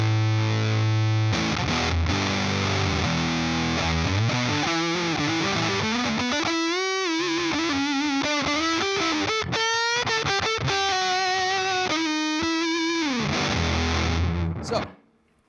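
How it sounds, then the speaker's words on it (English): Electric guitar through a Supercool op-amp Big Muff style fuzz pedal with a mid-boosting tone stack, playing loud, thick sustained fuzz chords and lead lines up close, ringing alone before cutting off at the end. "And now, here's the fuzz."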